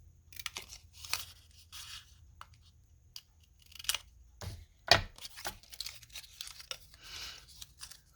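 Scissors cut through a paper envelope flap in a series of soft, scattered snips and crisp crinkles with quiet pauses between them, close by and faint, no talking.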